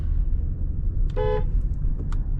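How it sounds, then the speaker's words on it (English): A single short honk from a 2022 Porsche Cayenne's horn, a clear tonal toot lasting about a quarter second over the low rumble of the car's interior and engine. "If you want, we can test out the horn"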